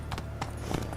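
Hoofbeats of Roach, Geralt's horse in The Witcher 3, thud in a quick uneven clip-clop of a few strikes over a steady low in-game ambient hum.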